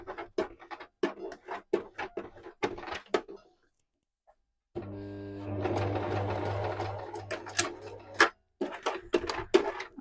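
A sewing machine runs in several bursts, stitching fabric up close with rapid mechanical chatter, including one longer steady run; brief pauses and near silence separate the bursts.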